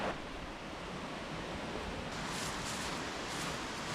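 A waterfall beside a solo campsite on a bluff roars as a steady, broad rush of falling water, constant and moderately distant, with no voices.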